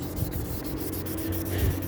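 Steady, close abrasive rubbing of 400-grit sandpaper against a Nissan X-Trail T31 headlight, a continuous dry scratching with slight swells in intensity.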